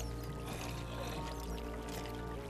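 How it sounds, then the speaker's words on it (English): Released water in the Minecraft video game flows with a faint, continuous trickling and pouring wash, low in level and steady over a soft background hum. "Oh, and now I've released the water."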